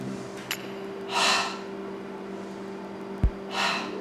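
Deep breaths during a yoga cobra pose, two slow broad exhalations a few seconds apart, each lasting about half a second, fairly close and soft, with no talking.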